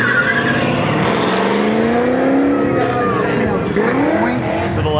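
Custom 1953 Chevy truck with a 6.2 liter LS3 engine and Wilwood disc brakes running an autocross course, engine revving and tires squealing steadily under a public-address announcer talking throughout.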